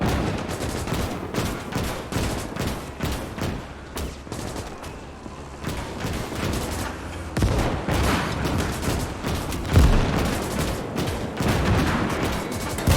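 Gunfire in the World War II strategy game Call to Arms, with Spanish troops defending Leningrad in 1943 and firing on tanks: dense, overlapping bursts of rifle and machine-gun fire with heavy booms, loud and sustained, no talking.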